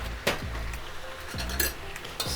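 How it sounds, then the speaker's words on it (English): Vegetables stirred in a hot pan with soy and teriyaki sauce, a handful of sharp metallic clinks and scrapes at an uneven pace over a faint sizzle, close by. "Stir."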